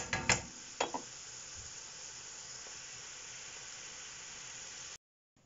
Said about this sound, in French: Allez, mes petits légumes, on cuit, on mijote